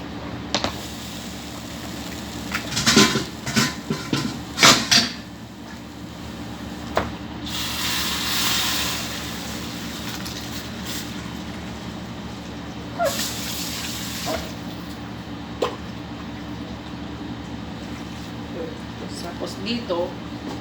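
Cooked food is drained of its water in a kitchen, with a couple of gushing pours of water in the middle. Someone talks off and on around the pours.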